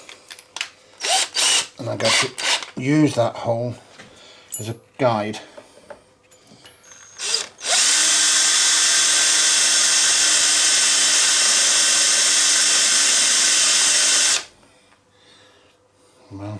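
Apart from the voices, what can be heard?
magnetic drill boring a hole in GSXR1100 frame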